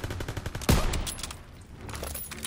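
A weapon fires in Call of Duty WWII, with a rapid burst of sharp shots and one loud, punchy report standing out, followed by fainter scattered gunfire.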